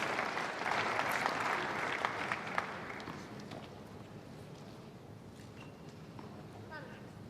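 Crowd at a United Cup 2023 tennis match claps in a steady burst of applause that tapers off over several seconds, with a commentator talking over it.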